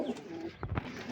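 Penned pigeons, Angorian mukhi among them, coo in a steady low burble close by, with a couple of louder brief rustles or flutters and no voices.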